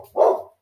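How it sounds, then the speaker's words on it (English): A single short, loud indoor bark from a pet dog, close by, with nothing else around it. "Sorry for my dog."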